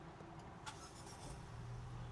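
A Chery C5 car engine starts from inside the cabin, with a brief click followed by a low, steady motor hum that swells slightly toward the end.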